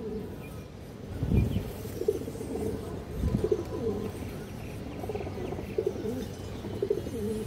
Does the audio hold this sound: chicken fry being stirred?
no